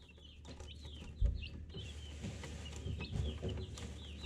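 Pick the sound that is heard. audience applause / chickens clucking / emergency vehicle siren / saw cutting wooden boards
chickens clucking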